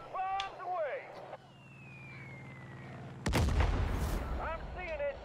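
Bombs exploding in the video game Far Cry 5, a heavy blast that bursts in loudly after a long whistling fall, with rumbling aftermath and a voice talking briefly before and after.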